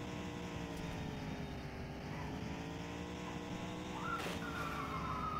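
A steady car engine drone with tires skidding in The Long Drive, driven with a G27 wheel; the engine hum holds constant, then a rising squeal of sliding tires cuts through near the end.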